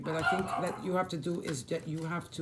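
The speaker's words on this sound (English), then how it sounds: "Sorry for my dogs, they're barking." Dogs bark and yip in the background while a person keeps talking over them.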